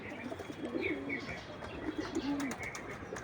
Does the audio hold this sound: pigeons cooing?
yes